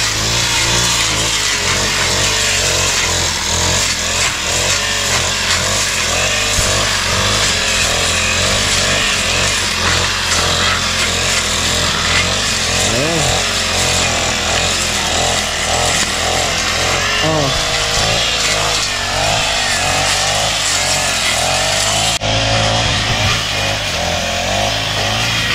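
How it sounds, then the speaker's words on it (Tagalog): A grass cutter fitted with a metal blade runs continuously while clearing land, its engine whining and revving loudly and close for the whole stretch, with people talking over it. "Maganda kasi yung grass cutter ni Kiwaning at meron siyang blade mga kautol."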